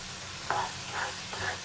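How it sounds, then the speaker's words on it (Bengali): Spiced masala and grated paneer are stirred in a pan, with a soft background sizzle and three brief scraping strokes. "দিয়ে এবার মশলাটাকে পনিরের সঙ্গে ভালো করে নাড়বো।"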